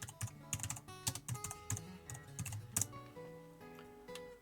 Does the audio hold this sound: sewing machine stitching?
no